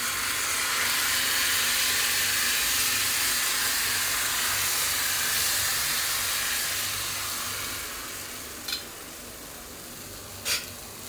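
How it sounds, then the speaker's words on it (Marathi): Rice-flour ghavan batter hisses on a hot griddle, a soft, steady sizzle that slowly quiets. Two sharp little clicks near the end are probably from the pan or utensils. "मी अशा छोट्या भांड्यामध्ये पीठ घेते आणि घावन घालते"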